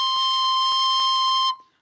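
A recorder holds a steady high C, played as one sustained, bright, loud note that ends cleanly after about a second and a half, with faint clicks running through it and no voice.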